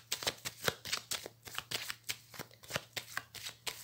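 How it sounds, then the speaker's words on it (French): A tarot card deck being shuffled and cut, with a brisk, steady run of close, crisp riffling bursts and no voices. "je vais faire une coupe avec le tarot que j'utilise lors des consultations"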